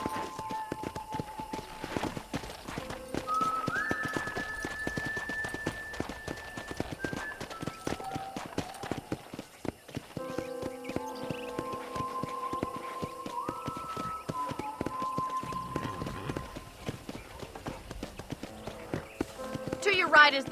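Steady horse hooves clip-clopping at a walking pace through the whole stretch in Red Dead Redemption, with game music playing and a voice talking over it.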